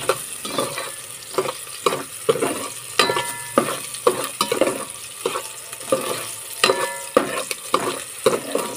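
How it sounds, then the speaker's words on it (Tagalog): Onion and ginger sauté in a pan with a steady crackling sizzle, broken by repeated scraping stirs at an uneven pace, close and moderately loud, and nobody speaks. "Dahil nagisa na natin ang ating sibuyas at saka luya"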